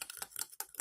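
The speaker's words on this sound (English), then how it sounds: "And then we will mix it well." Green tea gel being stirred and mixed in a small bowl, giving brief soft scraping and clicking strokes in a quick uneven rhythm, close and quiet.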